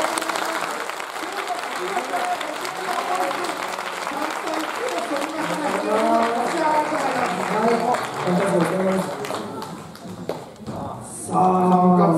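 Applause rises and falls at a Japanese competitive event in a hall, steady clapping from an audience running under continuous speech and a lively voice, ending with a brief louder burst.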